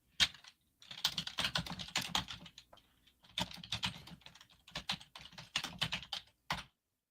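Typing on a computer keyboard, close and crisp bursts of rapid key clicks broken by short pauses, with no one talking.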